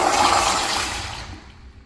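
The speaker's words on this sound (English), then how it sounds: "Let's have a look at a flush." Flush of a 2010s first-generation Sloan ST-2459 toilet with an elongated bowl: a loud rushing surge of water that gradually fades and thins out over about two seconds, with no one talking.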